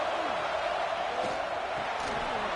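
A stadium crowd in the College Football 26 video game, at a UCLA at Michigan matchup, gives a steady broad roar with faint whoops rising through it.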